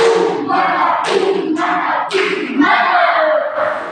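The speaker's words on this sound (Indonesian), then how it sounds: "Kita beri aplaus dulu untuk teman-teman kelompok 2 dengan tepuk mantap." A classroom group performs the rhythmic tepuk mantap clapping routine, several distinct bursts of unison claps and shouted chant-like voices in a loud, close, lively sequence.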